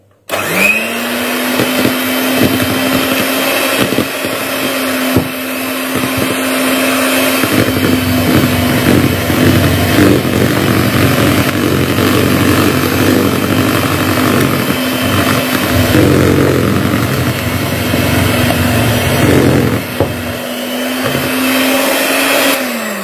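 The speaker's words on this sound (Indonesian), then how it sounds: "Kemudian kita mix dengan kecepatan paling rendah sekitar 15 sampai 20 detik." An electric mixer runs at its lowest speed through cake batter for a fermented-cassava sponge cake, a steady loud motor whine and hum that winds up at the start, holds for about twenty seconds, then spins down briefly and back up.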